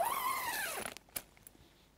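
A zip on a Gelert Bliss tent door is pulled closed in one long rising sweep, followed by a few soft clicks and rustles of fabric, close and with no talking.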